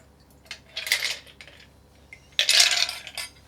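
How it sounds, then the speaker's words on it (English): A cocktail, an El Presidente, strained into a chilled coupe glass: two short bursts of close metallic clinking and rattling with a trickle of pouring between them, separated by quiet gaps, with no voices. "Let's strain in our chilled coupe."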